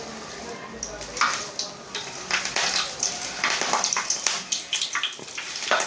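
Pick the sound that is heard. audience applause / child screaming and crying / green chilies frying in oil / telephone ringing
green chilies frying in oil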